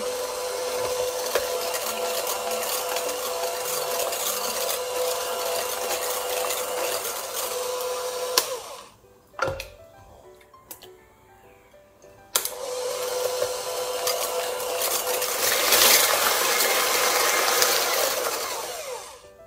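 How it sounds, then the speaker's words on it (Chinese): An electric mixer whips eggs into softened cream cheese with sugar, a steady loud whir that stops briefly partway through and then starts up again for the rest. "分次加入鸡蛋到奶油奶酪里头，继续的打发"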